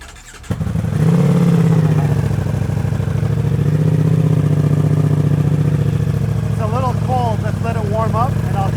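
A motorcycle engine fires on its first start after a brief crank, then settles into a loud, close, rumbling idle with a few sharp revs near the end.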